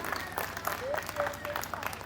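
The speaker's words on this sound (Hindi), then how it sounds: "पीयूष मौर्य जी के लिए जोरदार तालियां आप सब।" Audience applause at a Ganesh Mahotsav poetry gathering in Biswan, Sitapur: a steady, fairly faint patter of many hands clapping for about two seconds, with voices faintly mixed in.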